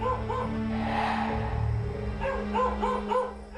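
Several dogs bark repeatedly in the area around a rescue team in Iraq, sharp barks coming in bursts over a low steady hum, fairly near.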